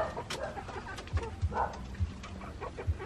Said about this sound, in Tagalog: Yung mga manok.